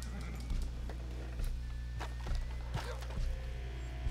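Horse hooves clip-clopping in Red Dead Redemption 2, a steady rhythm of about five evenly spaced thuds over a constant low game hum, fairly close and moderately loud.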